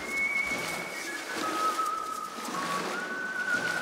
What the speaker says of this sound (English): here's that beautiful luring sound for it. Nice whistle.